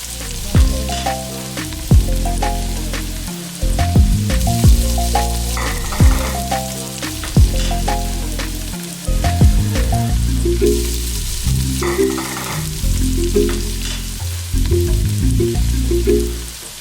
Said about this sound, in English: Keep cooking down the onions until they go lovely soft and see-through.